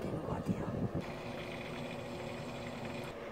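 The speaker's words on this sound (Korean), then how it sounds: "아래에 물소리 들리시죠?" An electric air cooler running in cool-humidify mode gives a steady whoosh of moving air and trickling water from its base, with a voice talking briefly at the start.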